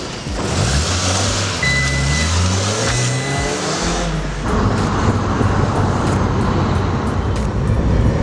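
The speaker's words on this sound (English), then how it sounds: "So we're out for a drive in the car." Mazda MX-5 on newly fitted coilovers driving on a public road, with steady engine drone that rises and shifts through gears, tyre and road rumble and wind noise heard from inside the car.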